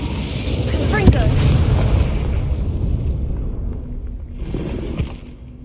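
The Confringo explosive spell is cast in Hogwarts Legacy, producing a loud, rumbling blast with a sharp crack near the start that fades into a lingering roar, followed by a smaller pop.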